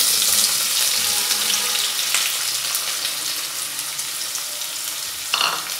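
Medium-sized sliced onions frying in oil toward golden brown for chicken biryani, a loud continuous hissing sizzle with a brief louder burst near the end, no talking.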